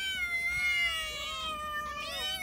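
Cats meow close by, answering a call with several overlapping high, drawn-out cries that rise and fall continuously.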